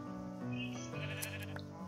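Sheep bleat in Minecraft on a Skyblock animal and villager breeding farm, several short nasal calls overlapping with other game tones, near and clear with no talking.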